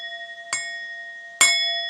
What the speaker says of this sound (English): You can do a little gong thing,